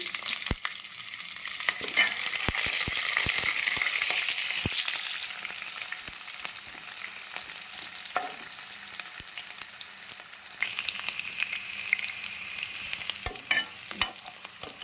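Large onions frying in oil with whole spices for bagara rice, sizzling loudly while a spoon scrapes and clicks against the pan in scattered sharp knocks, the hiss easing then rising again.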